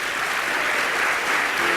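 A church congregation breaks into sustained applause, a dense even wash of clapping that holds steady throughout, with no voices standing out.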